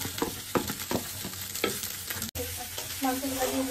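Meat fries in a pan with a steady, close sizzle, broken by several scraping stirs and clanks of a spoon against the pan, with no talk.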